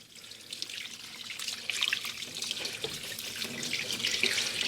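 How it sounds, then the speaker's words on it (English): Water is poured over a corroded car battery, trickling and splashing steadily and growing louder, close up with no voices. "carefully you're going to pour water over here to flush this off"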